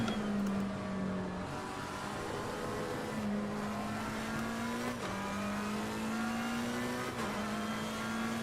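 Race car engines in the Assetto Corsa Competizione racing game at Zandvoort, a steady loud drone that climbs in pitch through each gear and drops sharply at every shift, with rival cars close alongside.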